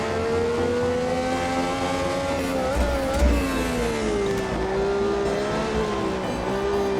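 Brabham BT46B Formula 1 fan car at speed, a loud continuous engine howl whose pitch rises and dips through gear changes and corners, with a brief bump midway.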